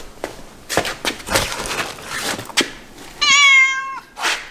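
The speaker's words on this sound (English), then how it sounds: "You have the loudest meow on the planet." A cat lets out one long, very loud meow close by, following a run of thumps and shuffling movement, with a shorter sound at the end; no talking.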